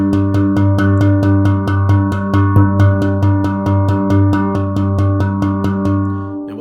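A steel handpan is struck hard on its central tone field in rapid, evenly spaced ghost-note hits over a booming sustained resonance, loud and close with a ringing metallic tone and no voices.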